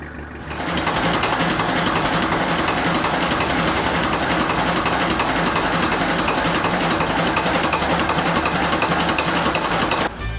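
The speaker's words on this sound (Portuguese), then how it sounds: "Negociou um motor Yanmar de 60 HP" A 60 HP Yanmar boat diesel engine runs steadily, a dense rattling drone that holds constant for about ten seconds without pause.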